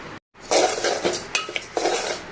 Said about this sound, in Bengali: আমি একেবারে লো ফ্লেমে এগুলা টেলে নিচ্ছি